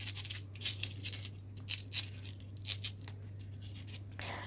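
Cassava is peeled by hand, a series of short rasping, tearing strokes in irregular rhythm, close and fairly quiet over a steady low hum.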